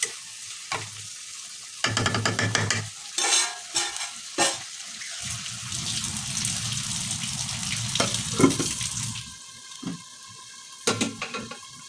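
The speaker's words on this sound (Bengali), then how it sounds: "মাঝে মাঝে আমাদের একটু নেড়ে দিতে হবে যেন আমাদের বুড়ি লেগে না যায়।" Beef slowly cooking in a covered pot on low heat for a Bengali bhuna, with a soft sizzle broken by bursts of scraping stirring and a few clanks of the spoon against the pot, no talking.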